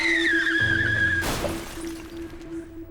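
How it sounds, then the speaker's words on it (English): A car crashing on a major Sydney road at the end of a police chase: a sudden loud smash cuts through a steady high whine and low rumble, after which a thin tone lingers. "At the end of the chase, he then crashed on a major road in Sydney."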